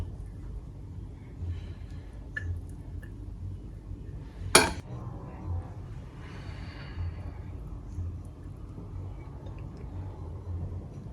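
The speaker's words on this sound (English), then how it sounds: "Let's dig in and serve our delicious smoky oven baked jollof" Serving oven-baked smoky jollof rice, with a single sharp clink of cutlery against a dish midway and a few faint scrapes and taps around it, close and otherwise quiet.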